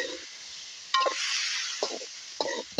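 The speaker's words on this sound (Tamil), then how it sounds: "எல்லாத்தையும் சேர்த்து தான் நாங்கள் வதக்க போகிறோம். எல்லாம் வடிவாக பிரட்டி வதங்க விடுவோம்." Vegetables and garlic sauté in a pan for spicy prawn devilled, a faint soft sizzle broken by a few stirring scrapes and clinks from the utensil.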